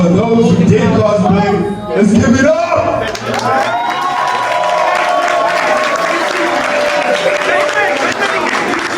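A crowd at an anime event cheers, whoops and applauds loudly, the noise swelling after a brief dip and staying dense and continuous with voices mixed in.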